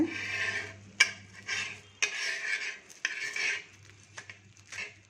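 Fritters dry-roasting in a pan with no oil, heard as repeated scraping and stirring of a utensil against the pan, with sharp metallic clicks at roughly one-second intervals and a steady low hum underneath.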